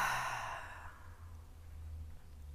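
A single long exhale of all the air out through the mouth during a yoga breathing routine, a close, breathy rush that starts strong and fades over about a second, leaving quiet low hum behind.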